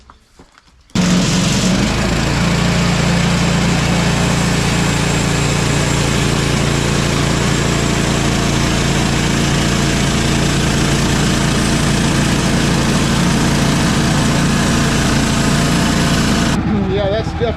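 Woodland Mills sawmill with a new blade cutting through wood, a loud, continuous engine drone and cutting roar that starts abruptly and holds steady for about sixteen seconds before cutting off.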